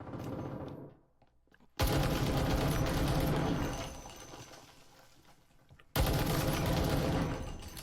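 Mori gun firing in the Breachers VR video game, two loud sustained bursts of rapid automatic fire separated by a short pause, each burst trailing off slightly as it ends.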